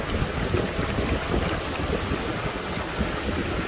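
Water poured from a jug into a Nissan GTR cooling system, a steady rushing, splashing wash of sound with no talk, continuous and fairly loud throughout.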